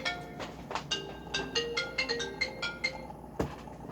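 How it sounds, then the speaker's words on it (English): Bright, tonal bell-like chimes ringing in a quick repeating pattern of about a dozen strokes, fairly close and clear, ending with a sharp thump. "But even the bell ringing"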